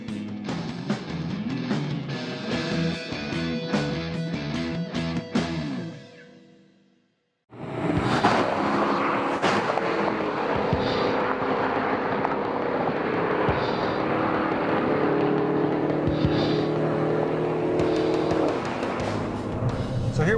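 A Dodge Charger SRT and a Chevy SS, four-door rear-wheel-drive American muscle sedans with big V8s, drive past with engine roar, then a brief silence and another loud sustained run of engine noise under music and talking.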